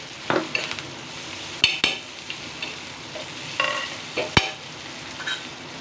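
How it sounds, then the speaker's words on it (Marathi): Chili thecha is stirred in a pan with curry leaves and coriander, with sharp metal clinks of the spoon and soft scraping strokes over a faint sizzle, close and with no voices. "कढीपत्ता झाल्यानंतर कोथिंबीर आता हे सगळं आपण मिक्स करून घेणार आहे"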